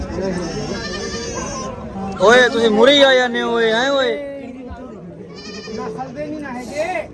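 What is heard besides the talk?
goat bleating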